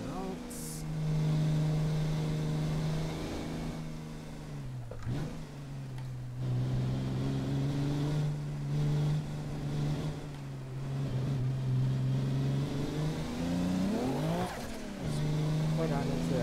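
A car engine in the driving game Assetto Corsa, on an open-world road, holds a steady low hum that dips and picks up again at shifts and throttle changes, playing continuously under quiet background talk.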